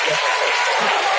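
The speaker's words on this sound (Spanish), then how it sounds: "vamos a darnos todos un aplauso" An audience at a school Christmas festival awards ceremony in Ourense breaks into dense, steady applause, a loud wash of many hands clapping close together with no pauses.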